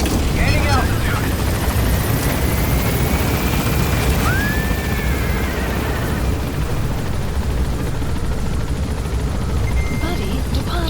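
A helicopter climbs in a Metal Gear game, its rotor roar a dense, steady wash with a rising whine sweeping through, loud and continuous behind the game's other sound.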